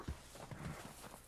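A horse's hooves clip-clop softly in the video game Red Dead Online, a few faint, evenly spaced steps heard alone and at low volume.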